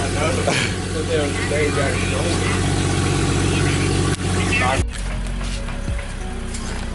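A BMW 335i fitted with new NGK spark plugs runs loud and steady at close range with a deep, continuous engine drone, cutting sharply lower near the end as the revs fall back.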